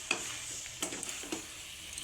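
Taro leaf and coconut curry being stirred in a pan, with three short scraping strokes of a spoon over a soft sizzle.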